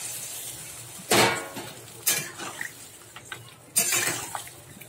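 Fried potato, ridge gourd and prawns stirred in a pan, with three sharp scraping clatters of a spatula against metal over a faint steady background sizzle.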